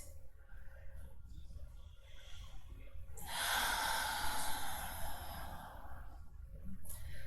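During gentle yin yang yoga, one big, slow breath is drawn in and let out as a soft, airy rush. It is quiet and close, over faint room hiss.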